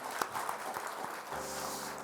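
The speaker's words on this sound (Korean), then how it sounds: "또 귀한 말씀을 주신 우리 원로 목사님에게도 감사의 박수 올려드리겠습니다." A church congregation clapping in thanks after a sermon. A short, moderately distant burst of scattered claps settles into a softer patter.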